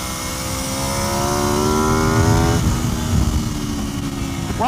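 Aprilia RSV4 sport bike engine on a race track, a loud sustained high-revving drone with rising harmonic sweeps as it accelerates through gears, close and continuous with no talk.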